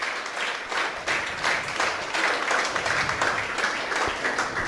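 A church congregation claps in rhythmic, steady beats during worship, moderately loud and slightly distant, with a faint murmur of voices beneath.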